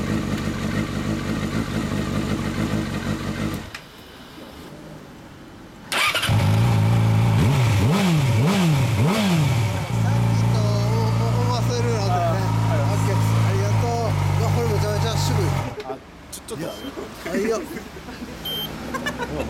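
A 2006 Yamaha R6 sport motorcycle fitted with a US Yoshimura exhaust revs loudly and close by, with several sharp throttle blips and then a sustained high idle-rev drone lasting about ten seconds, while people talk nearby.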